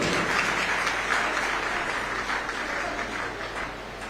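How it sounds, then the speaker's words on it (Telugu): An audience claps loudly and continuously at a political party meeting, a dense, even wash of applause that tapers slightly toward the end, with no speech over it. "ఇది నమ్మిన వాడు గట్టిగా చప్పట్లు కొట్టాడు."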